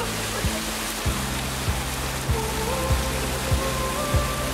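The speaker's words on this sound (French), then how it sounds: "nous expérimentons notre première averse tropicale" Tropical rain shower in Bali falls as a steady hiss of rain on surfaces, with regular low thuds repeating roughly every half second beneath the wash of water.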